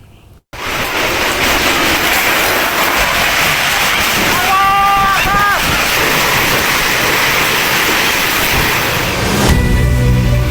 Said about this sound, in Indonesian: angin puting beliung menerjang sejumlah desa di Kecamatan Leces